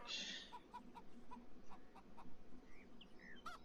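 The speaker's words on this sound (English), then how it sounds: "Well, you hear clucking." Chickens cluck softly in the video game Beyond Eyes, a few short, faint calls spread across a quiet outdoor ambience with light chirps.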